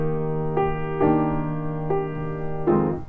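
Four strummed chords on an instrument, evenly spaced and ringing out, a major triad then richer major seventh chords with an added tone, played alone without talking.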